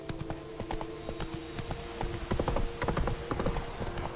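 Roach, the horse in The Witcher 3, gallops in a steady rhythmic clip-clop of hooves, close and fairly loud, quickening and thickening in the second half over a low game ambience.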